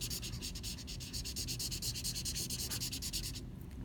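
A pencil scratches back and forth across paper in quick, even rhythmic strokes while shading a fraction diagram, close and soft, stopping just before the end.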